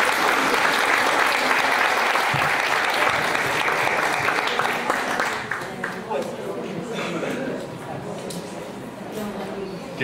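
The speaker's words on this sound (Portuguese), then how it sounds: "Vamos aplaudir por isso." An audience at an academic session applauds, a full burst of clapping that thins and fades over the second half while voices murmur beneath it.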